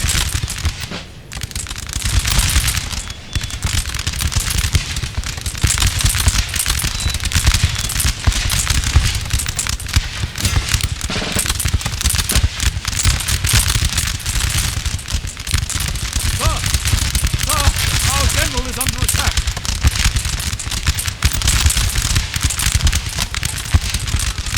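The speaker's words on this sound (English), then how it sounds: "Let's get all the men firing on this." Sustained crackling musket volleys from line infantry in a Napoleon: Total War battle with the Papal States, a dense continuous rattle of massed shots filling the whole stretch, loud and close.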